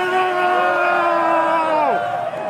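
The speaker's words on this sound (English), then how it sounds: "seeing the crowd like this, this is a crazy-ass crowd" Large crowd at a Smash tournament roars and cheers loudly, sustained whoops and yells swelling together and then dropping off near the end, filling the space close by.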